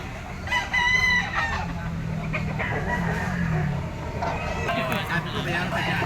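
Gamecock stags crow one after another at a market, with clucking fowl and someone talking through the calls.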